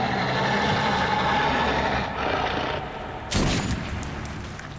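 Shotgun blasts in Metro 2033 ring out amid continuous loud gunfire and engine-like rumble, with a sharp, bright burst standing out near the end.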